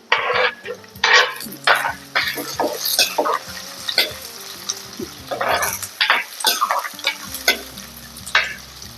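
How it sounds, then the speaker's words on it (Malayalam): Onion, ginger and shallots sautéing in a pan for a Kerala fish curry, with a close, steady sizzle broken by repeated scraping stir strokes and light clinks of a utensil against the pan. "സവാളയും ഇഞ്ചിയും ഉള്ളിയും എല്ലാം വഴന്നിട്ടുണ്ട്"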